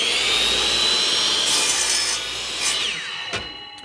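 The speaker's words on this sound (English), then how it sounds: "now I'm gonna cut my handle right about there" A power saw cuts through a wooden dowel handle, a steady loud whining buzz that rises in pitch and then winds down as the cut finishes, with no talking.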